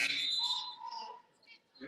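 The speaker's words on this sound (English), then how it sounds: "A late whistle from the ref." A referee's whistle at a high school basketball game gives a shrill blast, heard a little distant against crowd noise and gym ambience.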